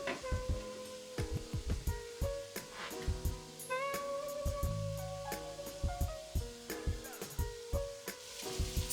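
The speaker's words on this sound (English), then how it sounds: "Stir it around a little bit more. Make sure everything cooking evenly." Meat for spaghetti sauce frying in a pan while being stirred, a soft steady sizzle broken by repeated clinks and scrapes of a utensil against the pan, close up with no voices.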